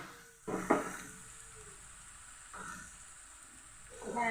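Spices frying in a pan with a soft steady sizzle, broken by a few brief scrapes and clinks of a spoon stirring, moderately close and fairly quiet.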